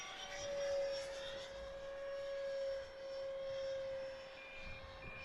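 A Habu SS 70mm electric ducted-fan jet RC plane flying overhead, its thin, steady turbine-like whine rising and falling in pitch as it passes at a distance.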